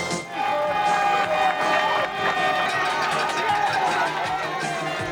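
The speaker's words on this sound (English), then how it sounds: "Cheering today in the streets of Panama City" A crowd cheers and shouts in the streets of Panama City, a dense, steady roar of many voices with whoops and chatter holding at a loud level throughout.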